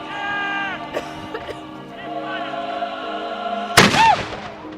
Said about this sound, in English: Is ready to order the first round from the cannon to be charged